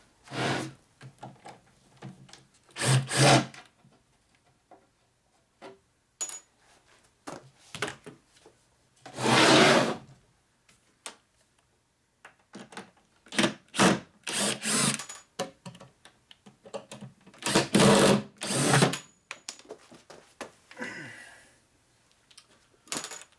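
Screws come out of parts of a 1946 Harley knucklehead motor, with short loud bursts of tool whirring and rattling broken up by quiet gaps in a close, uneven rhythm.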